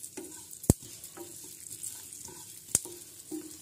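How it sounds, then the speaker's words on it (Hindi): White sesame seeds roasting in hot oil in a pan, a soft crackling sizzle broken by two sharp knocks of a utensil against the pan and light stirring. "अब हम इसमें डालेंगे सफ़ेद तिल और थोड़ा सा हल्के से भूनेंगे इनको"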